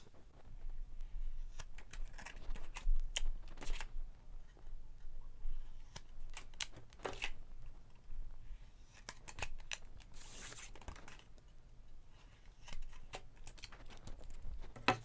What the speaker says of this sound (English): bring our scissors in and we'll miter cut the corners